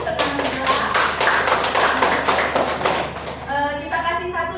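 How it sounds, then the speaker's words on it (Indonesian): Students in a classroom clap their hands in a steady group burst of close taps lasting several seconds, with voices heard over the clapping and then continuing as it fades. "Tepuk tangan dulu, tepuk tangan dulu."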